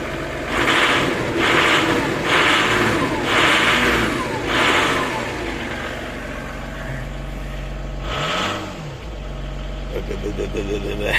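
A V6 TDI diesel car engine on a cold start runs with a rough, rumbling idle and several pulsing revs, close and loud.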